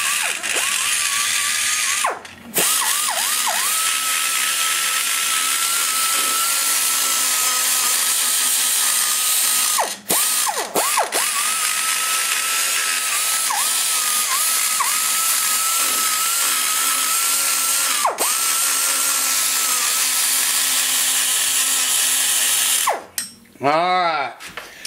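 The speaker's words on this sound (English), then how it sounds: "This is the burr right here that I use to finalize the blending on the aluminum." Carbide burr in a high-speed die grinder blending aluminum intake ports on a 345 BBC cylinder head, a loud steady whine running almost continuously with a few brief stops and a spin-down near the end.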